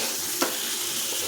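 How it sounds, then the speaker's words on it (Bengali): Boiled potatoes fry in oil for a potol-chingri curry, a steady dense sizzle with a brief stirring scrape partway through. "এখন আলুটা খুব ভালো করে কষিয়ে নিতে হবে"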